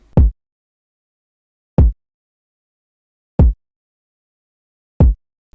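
Four solo kick drum hits from a hip-hop beat, evenly spaced about a second and a half apart, each a punchy low thump that decays quickly into silence.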